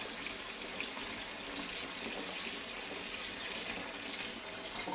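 Soapy water is poured off brass cases sitting in stainless steel tumbling media, a steady, faint rushing flow that runs unbroken with no voices.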